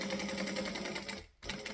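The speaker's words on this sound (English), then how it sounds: "So we're going to stitch and back stitch." A sewing machine running close up, stitching steadily with a fast rhythmic whir that briefly stops and restarts as it back stitches around a curve.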